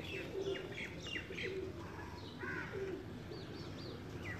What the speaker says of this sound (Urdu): بہت اچھی بند دم کے ہیں یہ کبوتر